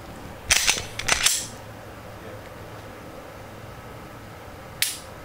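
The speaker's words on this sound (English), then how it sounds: "for the original M&P9, which is this one, the trigger is a little gritty, not really stagey" Dry-fire trigger pulls on an original Smith & Wesson M&P9 pistol: a close cluster of sharp, crisp clicks early on, then a single click near the end, with quiet room background between.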